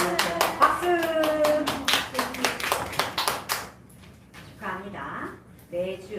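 At a church youth worship service, a group claps in quick, uneven bursts for several seconds, fairly close and lively, then the clapping stops and a voice talks over quieter room sound.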